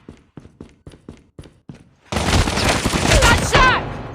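Gunfire in a shooting video game: a series of about eight evenly spaced single shots, then a sudden loud sustained barrage of rapid fire and explosions.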